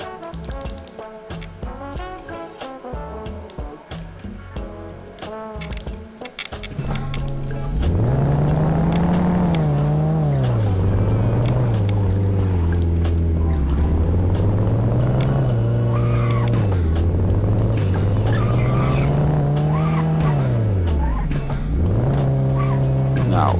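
Simulated hatchback car engine in a game-engine test drive, revving up and down in repeated rising and falling sweeps, loud and continuous after a stretch of clicking and rustling at the start.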